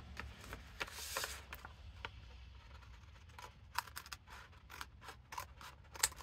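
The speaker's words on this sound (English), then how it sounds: "I can trim using the guillotine, or I can trim using my paper scissors." Paper scissors trim a sheet of paper for a junk journal booklet, a series of quiet, close snips and crisp scraping strokes spaced irregularly over a faint background hiss.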